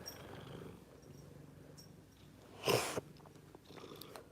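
An elderly cat purring close up, a soft continuous low rumble with a brief louder rustle or snort near the end, no speech.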